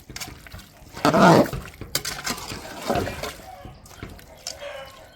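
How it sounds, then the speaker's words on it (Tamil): About two litres of water splash into a pot of Pallipalayam-style country chicken curry in one loud pour, followed by softer sloshing and stirring, with a voice talking in between. "ரெண்டு லிட்ரு தண்ணி ஊற்றி நல்லா ஒரு ரெண்டு கிண்டு கிண்டு விட்டுடலாம்"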